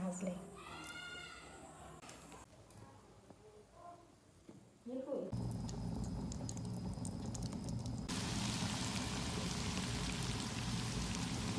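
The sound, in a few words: egg and potato samosas deep-frying in oil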